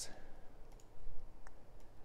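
A computer mouse right-clicks and keyboard keys tap while building a game in Unreal Engine, giving a few sharp, close clicks over faint background noise as someone talks.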